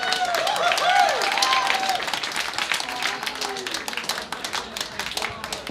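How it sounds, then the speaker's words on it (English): An audience claps and cheers for two combat robots at a robot fighting competition quarter-final, loud applause that fades gradually, with an announcer's voice over it at the start. "A round of applause for these two robots."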